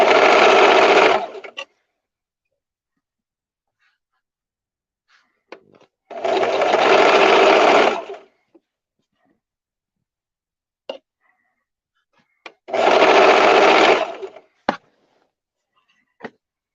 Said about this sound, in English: I hope you all are enjoying the sewing machine ASMR.